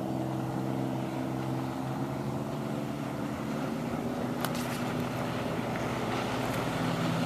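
A 1938 Chris Craft Double Cockpit Forward Custom Runabout motorboat passes on Lake Champlain, its engine a steady, fairly loud drone with a few sharp splashes from the wake near the end.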